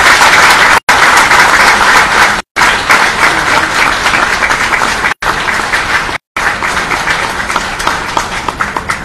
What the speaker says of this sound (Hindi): आपकी तालियों से मुझे ये महसूस हो रहा है कि यह कार्यक्रम बहुत सफल होने वाला है।